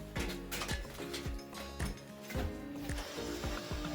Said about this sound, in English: Just hooked up the vacuum pump.